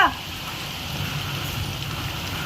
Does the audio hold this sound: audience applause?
no